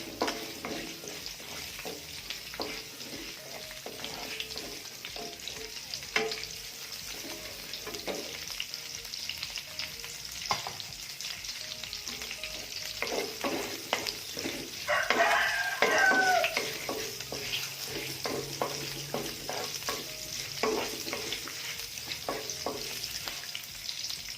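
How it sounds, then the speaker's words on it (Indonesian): Spices sizzle steadily in hot oil in a pan: orange leaves, lemongrass stalks, cinnamon and bay leaves sautéed for green-spiced opor ayam. The frying hiss runs close and unbroken throughout, with occasional stirring clatter and no voices. "Tumis dia sampai tercium aromanya"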